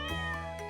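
A cartoonish in-game cat named Butterscotch meows once in Stardew Valley, a short, clear, tonal mew with a harmonic, upward-bending pitch, heard alone and close.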